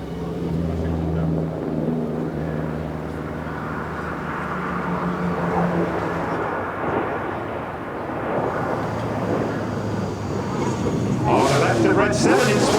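Red Arrows display jets sweep in from the side trailing white smoke at the Goodwood Festival of Speed, a loud sustained engine roar with a rising rumble and a fresh surge near the end, under continuous commentary.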